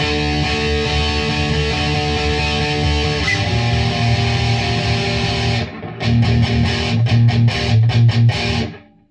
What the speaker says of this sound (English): That almost sounds like too much distortion.